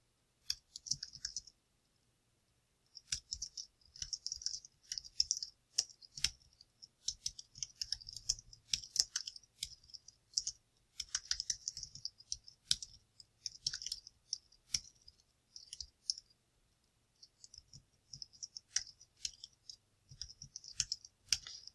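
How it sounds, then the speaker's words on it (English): Quiet, steady typing on a computer keyboard, rapid clicks in irregular bursts with short pauses, close by and with no voices. "I'm just typing this in here live."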